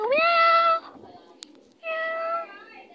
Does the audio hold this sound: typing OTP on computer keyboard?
no